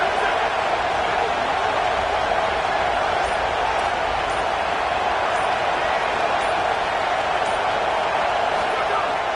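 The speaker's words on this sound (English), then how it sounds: "The noise reverberating off the checkerboards in Neyland on 3rd down." A loud, continuous roar of a large college football crowd at Neyland Stadium on third down, sustained and echoing without a break.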